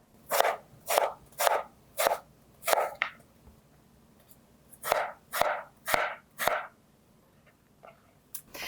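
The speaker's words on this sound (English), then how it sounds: "So I'm going to cut it in half first, and then I'll thinly slice it" A knife cuts an apple in half and then thinly slices it on a board, giving close, crisp strokes in a steady rhythm: a run of six, a pause, a run of four, then a couple of fainter cuts.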